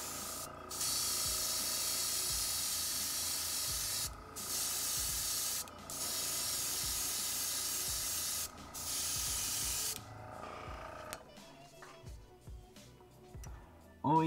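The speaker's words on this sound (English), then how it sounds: "Always use a primer whenever you're airbrushing." An airbrush sprays primer onto small action figure guns in steady hissing bursts, each lasting a couple of seconds with short pauses between, fairly close. The spraying stops near the end and gives way to faint handling noises.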